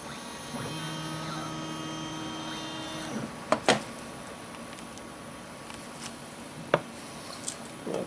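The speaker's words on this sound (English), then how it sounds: "now I'm going to jog the machine back out of the way so I can clamp this material down" A CNC machine jogs its axes aside in a shop, with a faint whining motor tone that shifts pitch for about three seconds, stops, then gives way to scattered clicks and taps over low hum.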